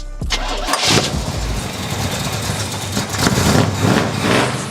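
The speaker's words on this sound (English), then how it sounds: "We're gonna fire it up for the first time and see how it runs." Chevy C10 Squarebody pickup engine cranks and fires up for the first time, catching after a brief crank and settling into a loud, rough idle with light revving close by, with no talking.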